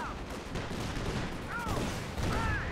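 Gunfire from a Scottish infantry squad in the real-time strategy game Company of Heroes, with a dense, continuous crackle of rifle and machine-gun shots in a busy battle mix and faint game voices.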